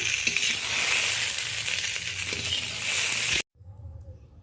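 Okra frying in hot oil for a sweet potato and red crab sour dish, a loud continuous sizzle that cuts off abruptly near the end, leaving faint quieter sizzling.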